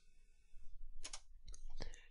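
Computer mouse clicks while someone sets up a Hyper-V virtual machine, a few sharp, close clicks in small clusters over low background hum, quiet and without speech.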